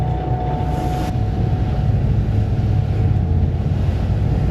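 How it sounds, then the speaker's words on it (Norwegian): A steady, heavy low rumble fills a boat's cabin continuously as its hull and engine drone through rough, stormy seas, with faint creaks and rattles from items inside the cupboards. "Det rumler og holder på. Det lager mye bråk inni skapene."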